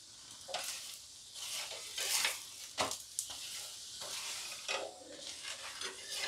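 Flatbread frying in a tablespoon of oil in a pan, a soft steady sizzle broken by stirring and scraping bursts, close and fairly quiet with no talk.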